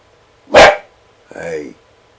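A dog barks twice, a sharp loud bark followed a beat later by a lower, drawn-out gruff woof, close by with quiet between.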